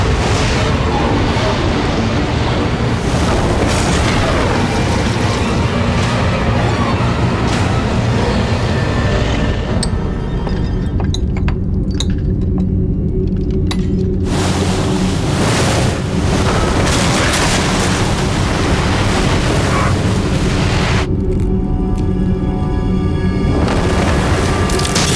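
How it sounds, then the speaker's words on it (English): A roaring, booming rush of water from a six-meter tsunami wave crashing into New York City, loud and sustained with surf-like surges and wind noise, and no speech. "A peripheral wave 6 meters high crashes into New York."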